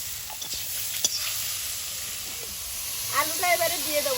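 Ridge gourd drops into hot oil in a pan, raising a soft, steady hiss and sizzle with a few faint clinks, while a voice speaks briefly near the end.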